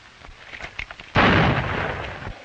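A gunshot in a 1938 western film strikes as a single loud, sudden blast with a long rumbling decay, preceded by a few faint scattered sounds.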